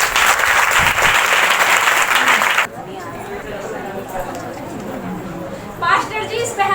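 A congregation clapping at a live healing service, a loud burst of applause that stops abruptly partway through, followed by murmuring voices and chatter in the hall.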